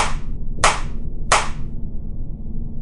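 Three sharp, close hand claps ring out overhead at an even pace, each about two-thirds of a second apart, over a faint low background hum. No one speaks.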